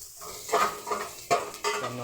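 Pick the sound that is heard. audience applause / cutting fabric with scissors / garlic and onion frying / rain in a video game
garlic and onion frying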